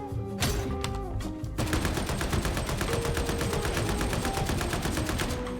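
Rapid automatic gunfire in the video game Warhammer 40,000: Darktide, loud dense bursts that begin with a short volley, pause briefly, then run as one continuous fusillade to the end, with no talk.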